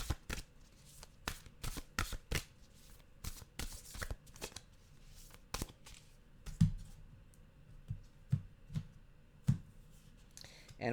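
Oracle cards from a Nature Whispers deck are shuffled by hand in a quiet room, giving repeated sharp riffling bursts and soft slaps in an uneven rhythm, close and moderately loud with no talking.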